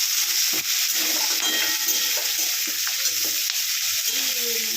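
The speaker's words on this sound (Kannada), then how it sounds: "ಆಲೂಗಡ್ಡೆ ಈಗ ಎಣ್ಣೆ ಹಾಕಿ ಚಂದ ಹುರ್ಕೊಂಡ್ಬಿಡ್ರಿ" Potatoes frying in hot oil in a home kitchen, a loud continuous sizzle with scraping stirring strokes throughout.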